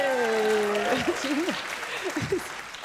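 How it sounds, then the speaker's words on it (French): Applause from an audience at an entrepreneurs' summit conference, a rushing wash of clapping that fades as a speaker's voice talks over it. "chaque fois qu'on dit un truc, ils nous applaudissent"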